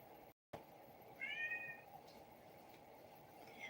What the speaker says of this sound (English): I don't know if you can hear that very subtle meow in the background of my kitty